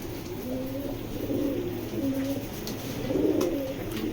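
Red jira racing pigeons cooing close by: repeated low, throaty coos in a rhythmic series, with no talk.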